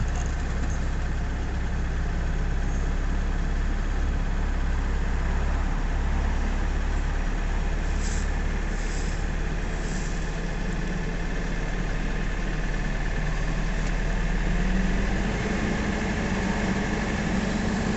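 A Nissan Navara D40 with a 2.5 dCi diesel engine suffering power loss and hard starting idles in a steady, even drone, close and continuous with no talking.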